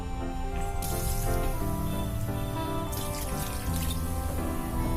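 Water runs steadily into a kadai pan, a continuous splashing pour with fluctuating hiss, close by and alone without speech.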